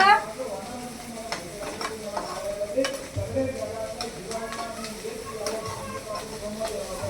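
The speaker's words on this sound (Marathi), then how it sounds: "आणि मग त्याच्यात हिरवी मिरची कट केलेली टाकायची आणि दोन्ही पण व्यवस्थित फ्राय करून घ्यायचं, चांगलं भाजून घ्यायचं." Chopped green chilies fry in a pan with a soft, steady sizzle and occasional scrapes of stirring, close by, with brief voices in the background.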